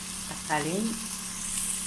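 Tomatoes fry with ginger and garlic in a pan for vegetable biryani, a steady soft sizzle with a brief stir or scrape midway, no talk.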